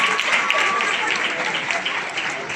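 Applause and clapping from an audience at a church Christmas and New Year ceremony, steady and dense throughout, filling the room without pause.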